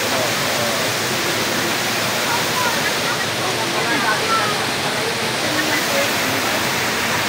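Water rushing through the Tube 1 irrigation channel in Pangasinan, a loud, constant broadband roar with no breaks, close by.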